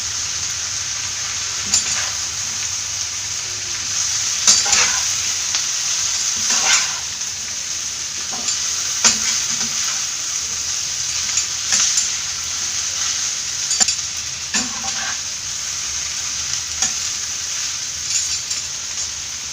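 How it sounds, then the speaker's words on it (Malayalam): Egg noodles fry in a pan with a constant, bright sizzle while they are stirred, bringing repeated scraping and tapping of the utensil against the pan over about twenty seconds. "ഇളക്കി കൊടുക്കാം."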